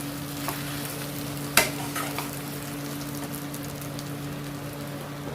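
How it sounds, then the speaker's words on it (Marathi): Rice being sautéed and stirred in masala for potato biryani, a steady soft sizzle and scraping stir with one sharp clack of a spoon against the pan partway through. "तांदूळ पण थोडा वेळ परतून घ्यायचं मसाल्यामध्ये"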